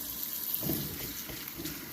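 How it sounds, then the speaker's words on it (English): Cold water runs steadily from a kitchen sink tap in a home kitchen, a soft continuous splashing stream heard close and alone, with no voices. "You're going to turn your water on cold."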